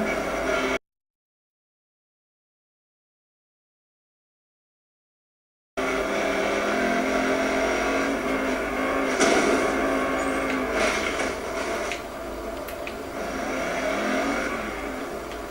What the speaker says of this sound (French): Donc, vous savez que vous pouvez rouler hors des chemins.